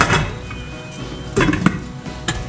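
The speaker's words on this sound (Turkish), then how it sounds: "Şimdi tenceremizin kapağını kapatalım" A metal lid clanks onto a pot with a few clinks and knocks, close by amid faint kitchen background noise.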